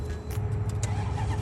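Engine of a wrecked, totaled Maserati GranTurismo running, a steady low rumble close by with faint high clatter over it.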